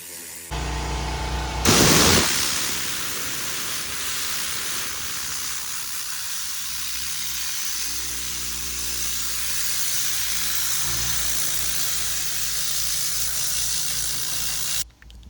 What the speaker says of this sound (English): blowing it out with my TORNADOR gun